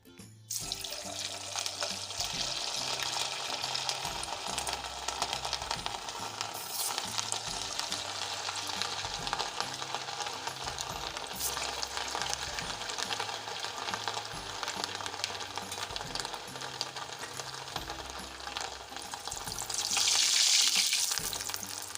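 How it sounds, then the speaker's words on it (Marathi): Semolina vadas deep-frying in hot oil, a steady dense sizzle and bubbling that holds evenly throughout, close and moderately loud, with a brief brighter hiss near the end. "लाल कलर येईपर्यंत मस्त तळून घ्यायचे"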